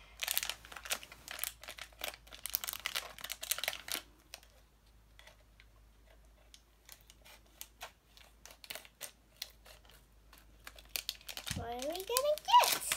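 Pusheen mini vinyl figure package crinkled and unwrapped up close, bursts of plastic and foil rustling at the start, a quieter stretch with faint handling, then more crinkling, with a voice briefly heard near the end.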